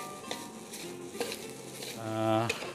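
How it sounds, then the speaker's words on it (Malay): Grated coconut being dry-fried without oil over moderate heat in a pan, stirred with a utensil, giving repeated scraping and clinking strokes with a faint sizzle and a tonal hum beneath. "Kalau nak sangai ataupun goreng tanpa minyak ni, nak kena api yang sederhana dan kena selalu kacau supaya dia tak hangus"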